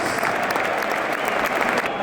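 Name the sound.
stadium crowd applauding during football substitution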